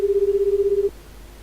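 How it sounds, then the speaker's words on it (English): A single steady electronic ringback tone sounds for under a second, then cuts off to a faint hum. "when you click on the green button to dial, you hear it ringing."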